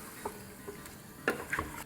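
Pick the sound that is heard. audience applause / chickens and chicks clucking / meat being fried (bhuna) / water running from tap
meat being fried (bhuna)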